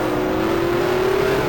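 Race car engine in the GTR2 racing game holding a steady, loud drone with a slowly rising pitch as it pulls through second gear, continuous and close throughout.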